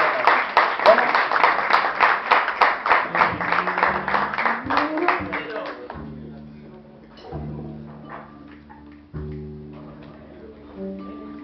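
An audience at a concert gives a burst of steady, rhythmic clapping that fades after about five seconds, giving way to quieter sustained tones.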